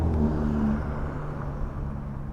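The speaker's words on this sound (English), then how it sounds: "that's good sounding V6" A V6 engine idles and revs steadily with a low, continuous rumble and a faint whir on top, close to the microphone and with no talking.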